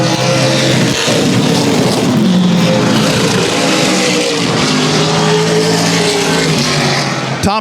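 Race cars roar continuously around the oval at Central Texas Speedway, a loud, dense engine drone with rising and falling pitch as the pack circles close by.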